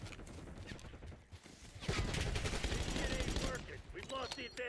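SMG fire in Black Ops 6, rapid bursts of close gunshots layered with game effects and speech, loudest through the middle of the stretch.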